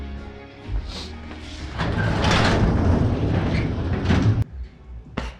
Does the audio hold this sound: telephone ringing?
no